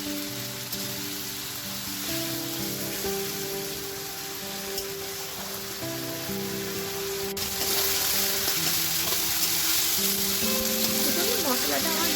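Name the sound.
spice paste frying in a pan for bhetki fish curry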